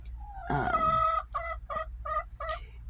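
A chicken squawks loudly nearby in a coop, then gives a string of rhythmic clucks in quick succession.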